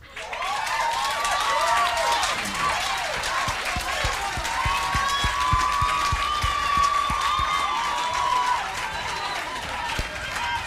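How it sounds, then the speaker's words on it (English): A crowd applauds a debate team at a leadership and debate event, sustained clapping from many hands that lasts the whole clip, with some cheering and a voice calling out over the clapping. "Give them another round of applause, please."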